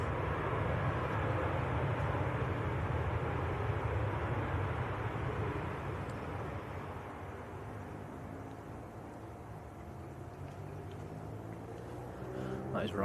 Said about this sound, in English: That is Ryanair from Brussels.